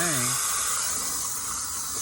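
A roof-cleaning sprayer set to soaker runs into a downspout, giving a steady, loud hiss of spraying water throughout, with a brief voice at the start.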